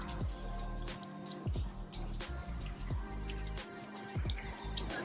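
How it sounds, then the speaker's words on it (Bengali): Water dripping inside a rain-fed cave temple near Kuala Lumpur, Malaysia: irregular drips and splashes land close by over a steady low hum of ambient noise, with no talking. "এখানে পুরো গুহা থেকে ন্যাচারালি জল বেরোচ্ছে, মানে বৃষ্টির।"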